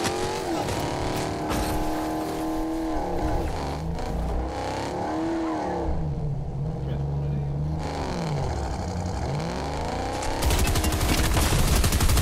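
Video game gunfire crackles in rapid bursts over roaring vehicle engines, with people talking over the chaotic mix of shots and motors.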